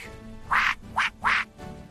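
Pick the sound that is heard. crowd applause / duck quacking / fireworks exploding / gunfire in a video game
duck quacking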